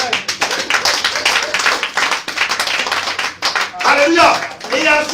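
A church congregation bursts into clapping to acclaim the Lord, a dense patter of many hands at close range, with voices and music rising over it toward the end.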